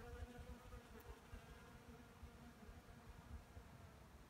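Faint, steady buzzing of bees foraging among gorse flowers nearby on a January morning, a soft droning hum over quiet outdoor background.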